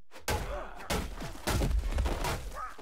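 Shotgun fire in the video game Paint the Town Red comes as several heavy booming blasts in quick succession, loud and close with a thudding low end.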